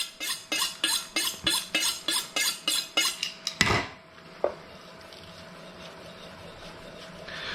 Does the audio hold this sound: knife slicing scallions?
yes